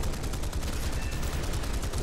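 The many guns of a P-63 fighter aircraft fire in War Thunder, producing a dense, continuous rapid rattle of gunfire that stays loud and steady throughout.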